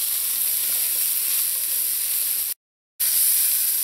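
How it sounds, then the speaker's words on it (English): Mushrooms browning in hot oil over medium heat, giving a steady, loud, close sizzle of frying that runs continuously apart from a brief silent gap. "I'm just going to allow the mushrooms to brown here on medium heat"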